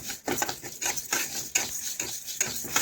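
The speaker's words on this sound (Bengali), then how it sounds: "এইভাবে নাড়াচাড়া করে আমি বেশ কিছুক্ষণ ধরে একটু ভেজে নিচ্ছি" Mung dal is stirred and fried in a pan over low heat, with a spoon scraping and tapping the pan in repeated close strokes over a soft sizzle, without talk.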